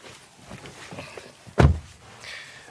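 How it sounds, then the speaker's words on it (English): Rear door of a SEAT Tarraco seven-seat SUV opens with a sharp, close mechanical clunk of the latch releasing, followed by a soft rustle of the door swinging wide, with no talking. "let's check out the rear, and that's accessed through these wide opening doors"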